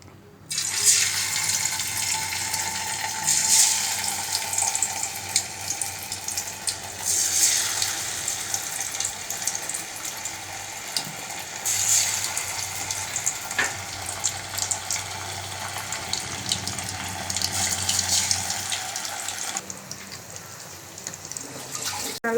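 Nethili anchovies fry in hot oil for hotel-style nethili 65, giving a continuous loud, bubbling crackle and hiss that carries on for over twenty seconds before easing slightly near the end.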